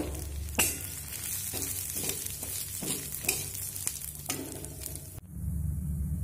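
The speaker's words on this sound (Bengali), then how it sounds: "এবার আমি এখানে মুগের ডালটা ভেজে নেব।" Moong dal fries in hot oil, a dense crackling sizzle broken by repeated sharp stirring scrapes against the pan, then cutting to a quieter, duller hiss near the end.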